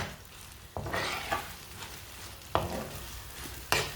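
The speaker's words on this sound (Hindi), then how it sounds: "3-4 मिनट के लिए इसी तरह पका लेंगे इसे, चम्मच चलाते हुए।" A spoon stirs an omelette mixture with vegetables as it cooks in a pan, giving a steady low sizzle broken by several sharp scraping strokes spaced irregularly, close and without talk.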